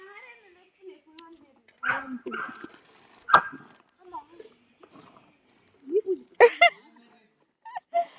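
A dog barks a few times in short bursts, interspersed with people talking nearby and some quiet gaps.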